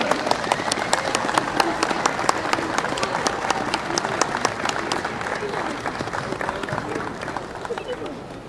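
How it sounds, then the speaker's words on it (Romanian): Steady crowd applause with sharp individual claps at a Romanian military aviation ceremony in Bacău marking the centenary of the Great Union flight, sustained and fairly close, slowly tapering toward the end. "Să-i aplaudăm!"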